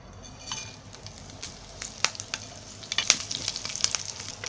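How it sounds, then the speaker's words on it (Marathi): Whole garam masala spices, including cracked cardamom, crackle and sizzle in hot oil for chicken keema. The frying is steady, with sharp pops and spits that grow busier toward the end, and no one speaks. "आणि आता सर्व गरम मसाला आहे ना आता ते तेलामध्ये टाकते."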